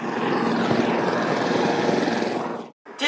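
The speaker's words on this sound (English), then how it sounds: "This helicopter is really fucking blowing my shit." A helicopter passes loudly overhead, a dense, steady roar of rotor and engine noise filling everything before cutting off abruptly near the end.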